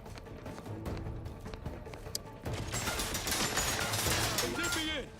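Turrets fire in The Outer Worlds 2, rapid bursts of game gunfire and mechanical clatter that grow louder and denser midway, mixed with a voice talking.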